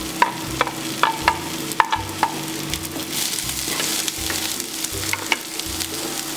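Heart of palm and scallions stir-fried in a pan over medium heat, giving a continuous close sizzle with sharp clinks of a spatula against the pan and scraping tosses, no talk.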